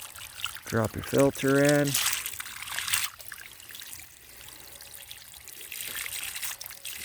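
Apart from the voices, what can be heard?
water overflowing while cleaning a swimming pool filter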